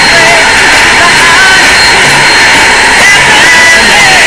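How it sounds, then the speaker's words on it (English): Airbus A380 jet engines roar during takeoff in the flight game Flywings 2016, a loud, steady broadband rush filling the whole stretch with no break. "today we are once again taking off in the Airbus A380"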